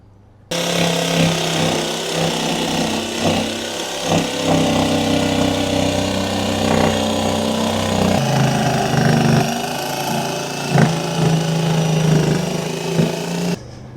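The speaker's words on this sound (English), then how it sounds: "we're going to use a jigsaw with a scrolling blade to cut the profile" A jigsaw with a scrolling blade cuts the profile of a wheel arch cover, giving a loud, continuous rattling buzz close by that wavers in pitch as the blade works the curve, with no talking.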